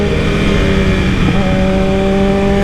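Acura car engine revving hard, a loud, sustained, steady roar with strong tonal harmonics, close and dense with no pauses or voices.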